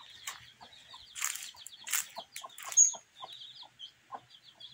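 Hens cluck in short, scattered bursts close by on a rural farm, with a few sharper squawks and rustling, and no talking.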